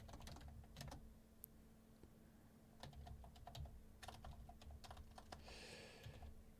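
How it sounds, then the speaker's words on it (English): Rapid keystrokes on a computer keyboard come in irregular bursts and clusters of clicks, close and clear over a low steady hum, with no voices. "Hang on, I'm typing notes for the deepest dive."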